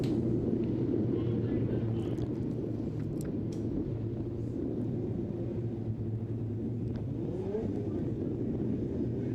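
Dirt track race cars rolling around the oval before a heat race at Southern Ontario Motor Speedway, a dense, continuous engine rumble from the pack heard at a distance throughout.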